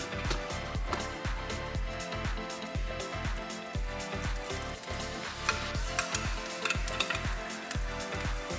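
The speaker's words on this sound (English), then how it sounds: "We're going to saute them along with some garlic." Onions and garlic sauté in butter in a pan, with a steady, dense sizzle and crackle running throughout and repeated soft stirring scrapes every half second or so, close and fairly loud, with no talking.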